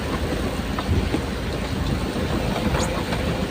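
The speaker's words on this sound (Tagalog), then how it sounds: "So grabe ang ulan eh, bagyo!" Steady, dense typhoon rain roars continuously, a broad rushing wash with low rumble and no voices.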